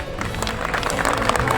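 Brief burst of audience clapping at a journalists' protest gathering, dense and close, with crowd murmur underneath.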